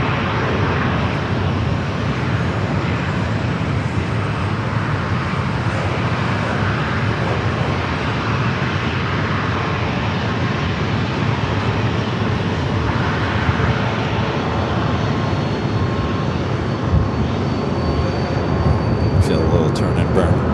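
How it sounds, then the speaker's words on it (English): A Southwest Boeing 737-800 bound for Baltimore takes off at San Diego airport, its engines a sustained, broad roar that holds steady and strong from start to finish. "We do have Southwest heading to Baltimore, Maryland at 737-800"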